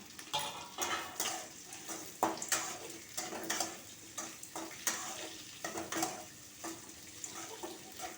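Onions fry in oil in a pan for a bitter gourd fry, a close crackling sizzle with frequent quick spatula scrapes and clinks of metal against the pan.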